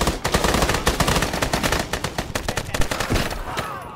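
Rapid automatic gunfire from the Vietnam-era setting of the video game Arma, dense overlapping bursts and single shots crackling continuously at close range with no talk.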